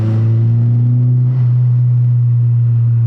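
A 2015 Honda Civic Si with a Hondata tune holds a steady, loud, close engine drone for a few seconds with a brief dip partway through.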